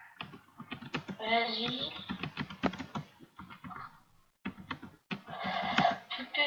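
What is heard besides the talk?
typing on a computer keyboard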